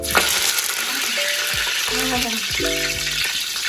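Mustard seeds and curry leaves frying in hot oil for an apple-chambakka pickle, giving a steady broadband sizzle with scattered popping crackles and a few clinks of a utensil against the pan.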